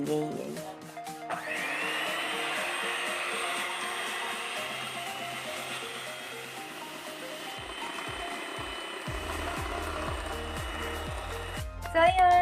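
A steady electric mixer whirs at a constant pitch for most of the stretch, whipping dalgona coffee in a bowl, with brief clattering before it starts and as it stops.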